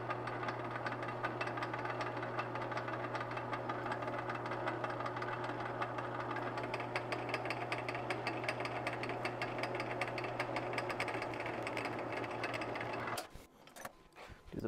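A lathe cutting a left-hand Acme thread, with the cut running away from the chuck: a steady, faint mechanical hum with a buzzing, rapidly pulsing texture that runs for about thirteen seconds and then stops, leaving a few scattered clicks.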